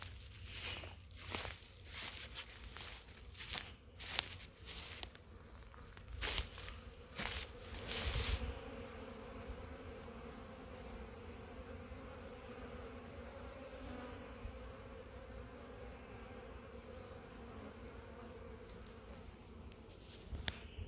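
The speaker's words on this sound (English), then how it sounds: "Oh, it's my poor starving little bees." Honey bees buzz faintly around animal feed in a farm barn in March, a soft, continuous drone. Scattered rustles and footstep-like thumps come first, and then the hum carries on alone.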